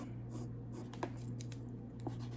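A pencil draws hair on paper, giving soft, continuous scratchy strokes close up over a steady low hum, with a couple of faint taps.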